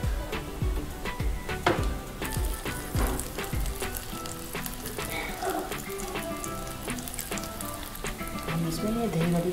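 Whole spices, including bay leaf, cinnamon, cloves, black pepper and cumin, sizzle in hot oil in a pan while Banarasi aloo is made, giving a close, steady crackle with sharp pops and clinks throughout.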